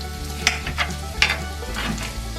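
A breakfast scramble sizzles loudly in a cast iron skillet, broken by a few scraping stirs and utensil clinks over a steady low hum.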